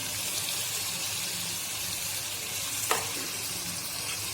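Taro stalks go into a sizzling hilsa fish curry, bringing a soft, even frying hiss with one brief clatter partway through and no speech.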